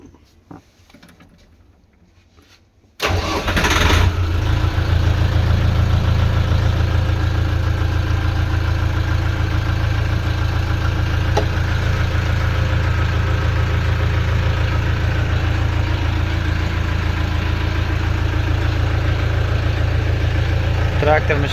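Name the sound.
YTO 354 tractor engine running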